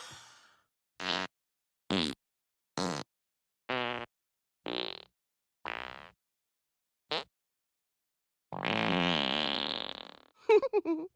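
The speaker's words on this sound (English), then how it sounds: "Would you stop farting, please?" A string of separate cartoon farts, seven short evenly spaced blasts followed by one longer, drawn-out one and a quick sputtering finish, loud and close with no talking.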